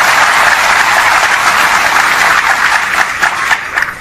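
Sustained loud applause from an audience at a religious sermon, dense clapping throughout that begins to thin slightly toward the end, with no voices over it.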